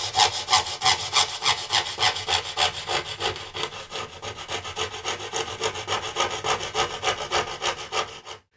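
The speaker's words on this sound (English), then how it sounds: "I'll just finish the last bit with a jeweler's saw" A jeweler's saw cuts through acrylic for an organ pipe in rapid, even back-and-forth strokes, a close, steady rasping rhythm that continues throughout and then stops.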